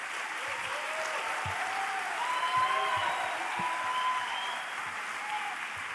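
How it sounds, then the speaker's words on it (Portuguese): Applause rolls through a hall at an academic lecture, steady and fairly full for several seconds, with faint voices calling out beneath the clapping. "Eu acho que tá fraco esse aplauso"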